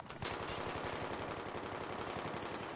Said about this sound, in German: Hört auf zu schießen.